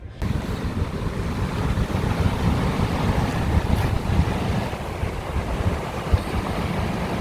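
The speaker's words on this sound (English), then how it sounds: "It just looks like a raging torrent, which is obviously all the snow is melting and the water is rising." Water pours over a weir in a snowmelt-swollen river along a canal route, a loud, steady roar of rushing torrent that never lets up, with no voices over it.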